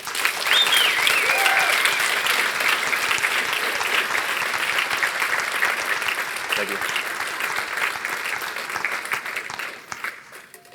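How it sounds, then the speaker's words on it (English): Audience applauding after a presentation, a sustained dense clatter of clapping that holds steady for about ten seconds before thinning out, with a brief spoken thank-you near the start. "Thank you for the round of applause."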